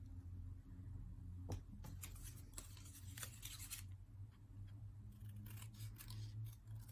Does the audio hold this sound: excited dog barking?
no